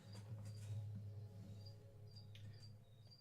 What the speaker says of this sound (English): Listen to those crickets.